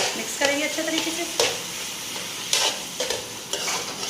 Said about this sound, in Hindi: मिक्स करेंगे अच्छे तरीके से।